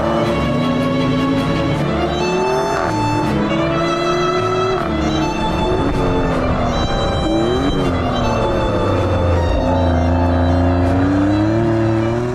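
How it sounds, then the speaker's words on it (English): A Maserati Grecale Nettuno SUV engine revs hard under acceleration, its note rising and dropping through gear changes of the 8-speed automatic, loud and sustained from the cabin. "The torque from the engine is fantastic, and so is the Nettuno's engine note, offering plenty of drama"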